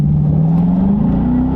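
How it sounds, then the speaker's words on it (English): A 2017 Dodge Daytona R/T on a launch control start, its engine droning loud and close with a steadily rising pitch as it accelerates hard. "That was the very first time we did launch control."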